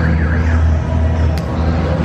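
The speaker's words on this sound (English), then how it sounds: "Setting off car alarms" A car alarm at an underground car meet in Aruba sounds a continuous, loud wailing tone steadily close by, with a low engine-like hum underneath.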